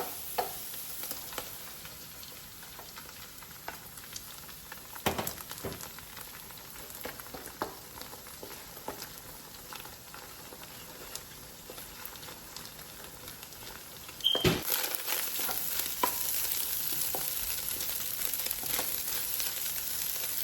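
Five eggs poured into a pan of frying vegetables and stirred, for fried rice, a steady close sizzle with scraping stir strokes that swells louder near the end.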